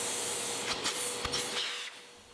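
A Makita 12-gallon Xtract dust extractor vacuum runs with a steady, fairly quiet airy hiss and whoosh, with a few brief suction surges, close by and alone.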